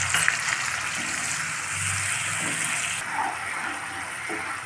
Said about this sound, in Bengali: মশলার বাটিতে সামান্য পরিমাণ জল দিয়ে বাটিতে ধুয়ে জল দিয়ে দিচ্ছি